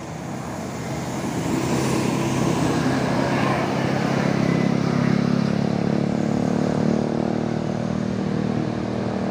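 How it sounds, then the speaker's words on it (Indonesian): A Barito tour bus rolls past on a busy road, its steady low engine rumble and tyre roar sustained throughout amid general traffic noise, no voices. "Ini ada bus Barito."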